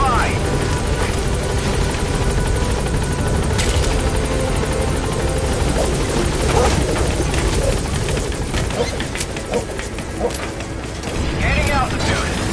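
B-Quad helicopter from Metal Gear Solid V landing at an LZ: a loud, dense, continuous rotor roar close by, with radio voice chatter over it.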